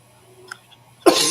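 One sudden, loud cough or throat-clearing burst close to the mic follows a quiet stretch with a couple of faint small noises, from a man who has had a lingering cough for weeks.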